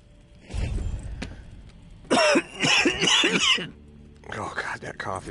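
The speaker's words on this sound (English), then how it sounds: "Oh god, that cough is getting real bad." Coughing from a character in The Walking Dead: Saints & Sinners VR game, a few rough bursts in quick succession over low ambient game noise, followed by more breathy vocal sounds.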